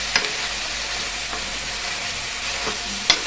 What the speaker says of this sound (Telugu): ఇలా మొత్తం కలిసేలా కలిపేసుకుంటా.